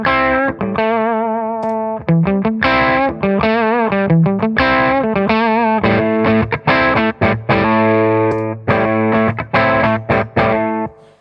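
Electric guitar played through a boost pedal set near its minimum, giving a slight lift into a clean amp: loud strummed chords and picked notes with a lightly driven, effected tone, played continuously with short gaps between phrases.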